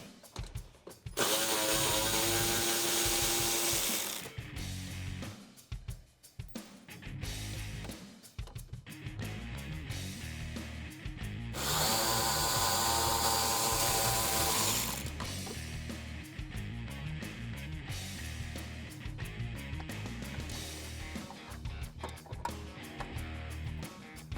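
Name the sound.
removing 10mm nuts from a Mustang bumper corner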